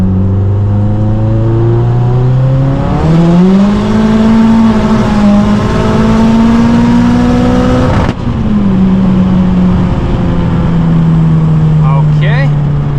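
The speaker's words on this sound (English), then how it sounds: "Let's see what third gear will do for us." A Mazdaspeed 3 on pump gas, running about 26 pounds of turbo boost, accelerates hard in third gear: a loud engine note that rises steadily in pitch, dips briefly at a shift or slip, then climbs again, with a voice speaking briefly near the end.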